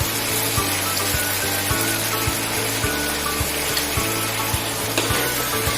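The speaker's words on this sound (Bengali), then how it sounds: "টক দই দিয়ে লো সিমে আরও 2 থেকে 3 মিনিটের মতো রান্না করে নেব" Pointed gourd cooks with sour curd in a pan over low heat, making a steady, close sizzle. Regular soft thumps run beneath it at an even pace throughout.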